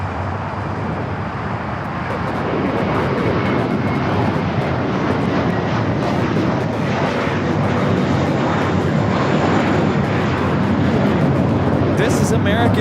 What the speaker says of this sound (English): This is American Airlines 1853 taking off to Chicago on the A321.